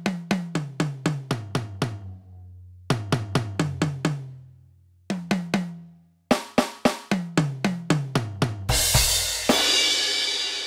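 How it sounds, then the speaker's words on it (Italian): Electronic drum kit being played in quick repeated strikes, groups of sharp hits that cut off abruptly as the cymbals are choked, ending in a sustained crash wash; close and loud with no talking. "Piatti che si stoppano"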